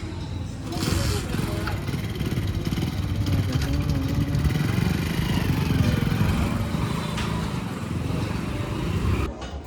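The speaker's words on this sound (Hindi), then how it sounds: "अभी हमारी गाड़ी फाइनल टेस्ट के लिए जा रही है।" An old Hero Honda Splendor motorcycle, modified to a cafe-style build, riding past on a test ride, a continuous loud engine drone with road and wind noise that stays close throughout before cutting off abruptly.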